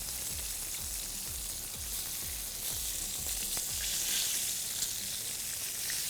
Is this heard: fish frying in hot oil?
yes